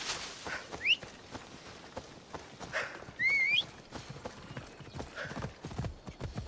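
Horse hooves clip-clop at a steady walking pace in Assassin's Creed Odyssey, with a couple of short whinnies and a whistled tone, game-like and close.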